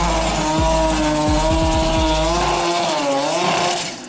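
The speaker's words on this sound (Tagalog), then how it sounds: "Kotseng umaapoy ang tambucho, Mazda RX-7 at tunog na ganito." A Mazda RX-7 rotary engine revs loudly and close, its exhaust rising and falling in pitch through several quick blips before settling into a high, steady wail that fades slightly at the end.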